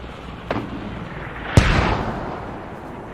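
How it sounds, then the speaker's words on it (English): Mortar shells land in the video game Squad during a competitive tournament match: a fairly distant thud, then a louder, sharper blast a second later with a rumbling tail, over a steady background roar. "That's mortars coming in."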